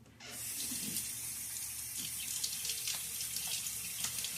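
A bathroom tap runs water into a sink for wetting the face after shaving, a steady close hiss and splash that starts abruptly and continues with small gurgling variations, with no voices.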